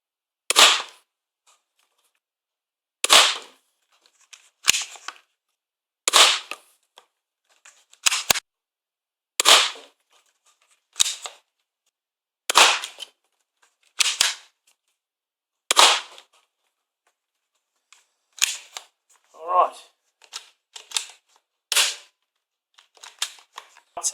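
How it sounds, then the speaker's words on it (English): A modified Nerf Star Lord Quad Blaster firing foam darts, a series of about a dozen sharp, loud snapping shots spaced a second or two apart with silence between, followed by a few lighter clacks. "Now I'll collect the ammo and we'll put another 6 through the second of the top 2 barrels."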